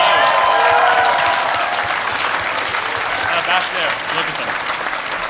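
A large convention crowd at BronyCon 2015 applauds the staff with loud, dense, sustained clapping and cheering, while a voice talks briefly over it.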